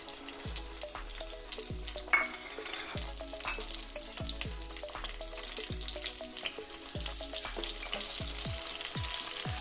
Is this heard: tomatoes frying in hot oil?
yes